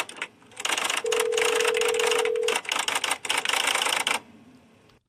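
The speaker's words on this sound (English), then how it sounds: "we just heard the typewriter typing" A manual typewriter being typed on in a burst of rapid, dense key strikes, loud and close, with a brief pause midway and a steady tone briefly sounding alongside the clatter.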